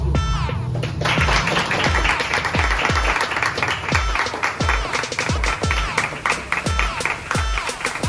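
An audience at a church gathering applauds in a dense, sustained burst of clapping, with rhythmic low thumps running through it, steady and loud for several seconds.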